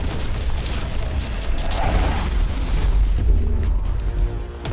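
Explosive shells fire in the Warhammer 40,000: Inquisitor video game, heavy booming blasts and rumbling detonations layered over dense mechanical clatter, loud and continuous with no one talking.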